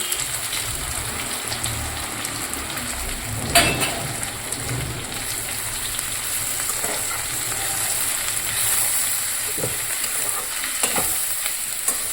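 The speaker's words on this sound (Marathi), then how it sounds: "गॅस कमी करून परतवायचा आहे, त्याला मसाला फ्राय होऊ द्यायचा आहे" Red chilli, garam masala, coriander, cumin and turmeric sizzle steadily in oil in a kadai over low gas for dhaba-style kadai paneer, with a spoon stirring and scraping at intervals, no voices.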